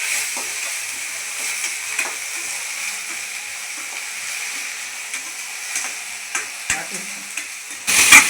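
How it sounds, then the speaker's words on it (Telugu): Ground veld grape chutney stirred in a hot pan after curry leaves and asafoetida were fried, giving steady sizzling with scattered spoon scrapes and taps, a louder clatter near the end. "మిక్సీ పట్టిన నల్లేరు పచ్చడిని వేసుకొని బాగా కలపాలి"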